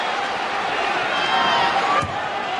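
A basketball arena crowd at Game 6 of the 1993 NBA Finals between the Bulls and Suns roars steadily with broad, continuous cheering, loud and unbroken, while a commentator talks over it.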